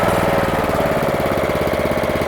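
The engine of a hitch-mounted core drill, running loud and close at a steady, rhythmic chug, heard alone with no talk.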